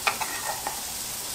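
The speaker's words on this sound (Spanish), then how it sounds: "Ya a mitad de cocción de mi cebolla, voy a agregar el ajo majado" Crushed garlic hits onion frying in oil, a soft steady sizzle with a few quick clicks of stirring at the start.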